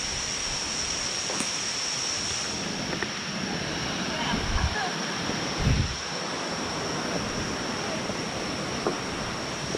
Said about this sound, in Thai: สายน้ำสีขาวใสจะไหลกระโจน ตกลงมาจากหน้าผาสูงชัน เป็นเกลียวสวยงาม